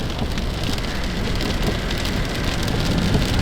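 Steady heavy rain drums on a car roof and windows in Brittany, a dense, constant patter filling the space with no voices.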